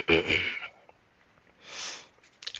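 A person blows their nose in a few bursts: a strong nasal blast at first, then a softer, longer exhale and a brief final snort, close and clear.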